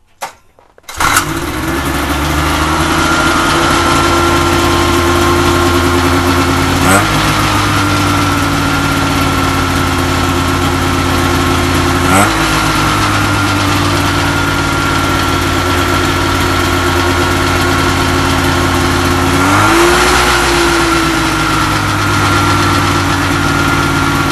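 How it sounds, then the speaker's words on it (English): A Cuyuna 440 two-stroke ultralight engine with electric start, built-in fuel pump and floats, cranks and fires, then runs steadily at a loud, close idle with a buzzing drone and a few brief blips, no talk over it. "we're going to do an electric start test on this motor now"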